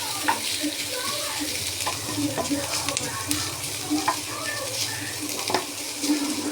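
Onions fry in a pan with a steady close sizzle while a spoon stirs them, giving occasional scraping and clinking accents over the continuous frying hiss.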